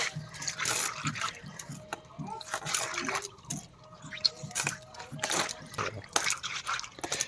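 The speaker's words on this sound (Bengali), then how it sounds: "এভাবে যদি সানের উপর মাছ ঢেলে রেখে যদি ধুয়ে নেন তাহলে খুব তাড়াতাড়ি এইগুলো মাছ ধোয়া হয়ে যাবে" Small chuno and puti fish, some full of roe, are washed and rubbed on a grinding stone, with splashing water, wet squishing and dripping in uneven bursts up close.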